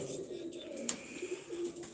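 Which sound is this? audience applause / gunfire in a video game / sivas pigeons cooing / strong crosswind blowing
sivas pigeons cooing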